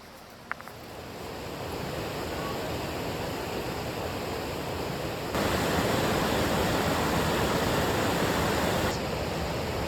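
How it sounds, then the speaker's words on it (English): Waterfalls in Savage Gulf State Natural Area, Tennessee, pour with a steady broadband rushing roar that grows noticeably louder midway and stays constant, with no voices. "All these waterfalls."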